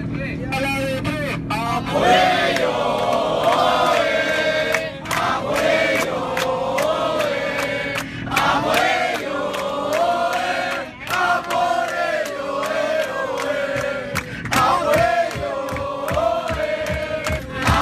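Las Palmas football fans chant and sing loudly in a crowd, voices rising and falling rhythmically in a dense, energetic roar with short breaks between phrases.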